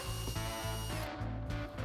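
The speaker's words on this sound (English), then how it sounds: "Next, I'm going to drill a pilot hole into the base" Power drill boring a pilot hole into a wooden base for a paper towel holder, a brief close whirring burst with pulsing motor strain and no speech.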